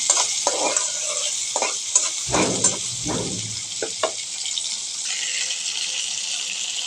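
Onions frying in a pan for chicken curry sizzle continuously, with scraping stirring strokes and a few louder bursts of hissing and clatter near the start.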